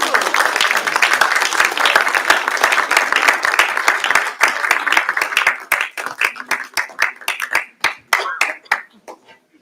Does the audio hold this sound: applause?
yes